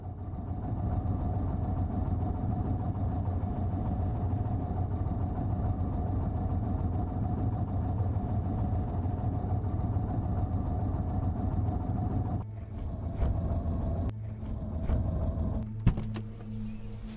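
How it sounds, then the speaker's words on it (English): A car engine idling and cruising in the video game Cataclysm: Dark Days Ahead, a steady low drone held at even loudness, briefly broken by a few clicks and thumps near the end. "cruising car sound."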